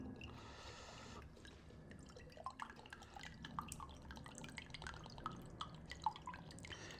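Coconut water trickling out of a tender coconut into a glass, a light irregular dripping and splashing that runs steadily at close range, fairly quiet, with no one talking over it.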